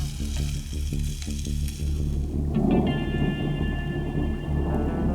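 A thunder shower at a remote lake camp in Finnmark: a low, heavy rumble of thunder rolls on steadily, loud and broad, with rain hiss and crackle layered over it and no voices.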